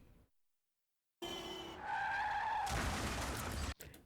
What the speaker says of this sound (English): So the car crashes.